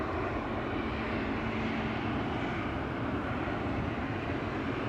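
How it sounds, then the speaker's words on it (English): A KLM Embraer 195-E2 jet at Amsterdam Schiphol Airport gives a steady, broad engine roar that holds even and fairly loud throughout, with no talk over it. "This is KLM flight 1303 to Gdansk"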